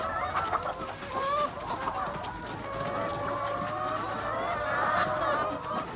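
A flock of over two hundred free-range laying hens on a small farm clucks and chatters continuously at close to middle distance, with overlapping calls forming a steady, busy layer throughout.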